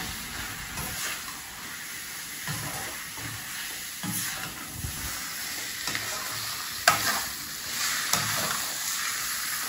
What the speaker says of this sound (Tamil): இவ்வளோதான் குக் பண்ணணும் ஸ்ப்ரிங் ஆனியன். இப்படி ஒரு வதக்குனாலே அது குக் ஆகிடும்.